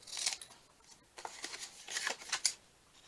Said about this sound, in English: Cut from the score mark